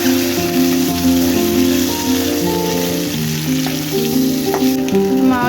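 Chicken frying with cinnamon, cloves, cardamom and pepper in ghee in a kadai, a loud continuous sizzle being stirred, with sustained musical tones running over it throughout.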